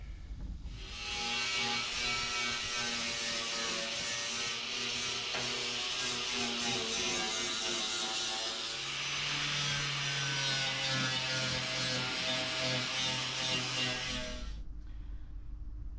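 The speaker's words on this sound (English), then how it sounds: "let's get to grinding and find out" A grinder works over welded-in patch panels on the driver fender of a 1969 Pontiac Catalina wagon, a steady loud abrasive roar with a constant hum that runs for many seconds before cutting off.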